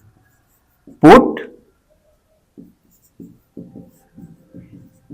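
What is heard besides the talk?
writing on a board during a math lesson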